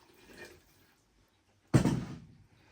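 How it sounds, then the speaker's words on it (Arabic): Water is poured into a cooking pot for Iraqi kibbeh in one short, close splashing gush lasting under a second, following a faint earlier trickle in a quiet kitchen. "وهنا أنا راح اضيف المي"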